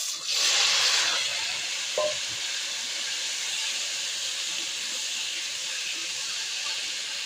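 Arum root frying with panch phoron spices in hot oil lets out a loud hiss that swells at the start, then settles into a steady, close sizzle.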